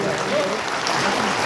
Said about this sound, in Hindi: और सभी के लिए एक बार जोरदार ताली होनी चाहिए।